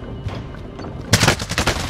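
Video game gunfire in a military shooter erupts suddenly after a quiet moment, a rapid burst of sharp shots that is loud and close.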